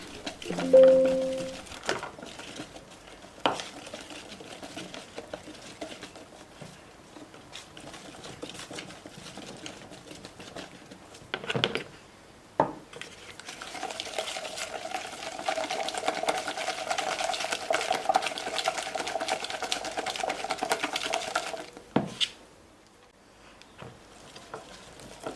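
A sweet, mayonnaise-like mixture is mixed while oil is gradually added, giving a humming, whirring motor sound. The sound runs on and off over a long stretch, broken by brief knocks and pauses, with the busiest stretch in the second half.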